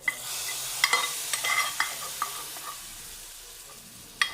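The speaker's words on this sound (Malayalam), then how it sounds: "കടുക് വറുത്തത് കറിയിലേക്ക് ചേർക്കാം." Fried mustard seed tempering is poured into a prawn and raw-mango curry. It gives a loud hissing sizzle with several sharp pops that gradually dies down, then one last crackle near the end.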